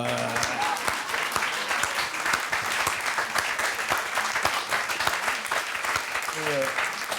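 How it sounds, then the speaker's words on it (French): Audience applause at a literary café event, a sustained crowd of many hands clapping with distinct sharp claps close by, and a few voices talking underneath. "Et alors là, vous applaudissez très très fort"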